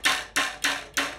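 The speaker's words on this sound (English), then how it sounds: "I'm gonna snap it and I'm gonna slowly detune it." A bare bass guitar string, unplugged, is pulled and snapped against the fretboard four times in an even rhythm, each a sharp close slap that fades quickly.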